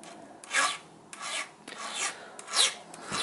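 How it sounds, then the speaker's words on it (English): Hand file sharpening a chainsaw chain, a few short rasping strokes of metal scraping on metal, close and moderately loud with brief pauses between strokes and no talking. "So I wanna basically file that down."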